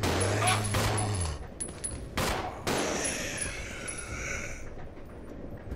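Gunfire in the video game Resident Evil 0: a few sharp, loud shots spaced apart, echoing off, with a low engine-like hum early and electronic tones in the background.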